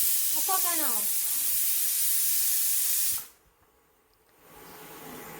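A pressure cooker holding green gram vents steam in a loud, continuous hiss that cuts off abruptly after about three seconds. Quiet room tone follows the cutoff, and a faint voice is briefly audible near the start.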